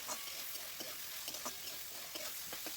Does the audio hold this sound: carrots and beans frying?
yes